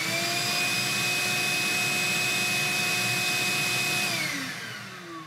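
A Ridgid wet/dry shop vacuum runs with a loud, steady whooshing roar and a high tonal whine, then the motor winds down near the end as the pitch drops and the noise fades.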